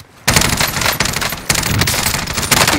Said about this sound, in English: You hear that? Taking fire here.